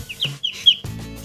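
Several short, high-pitched peeps from a duckling hatched under a white duck, close by, coming in quick bursts with brief pauses between them.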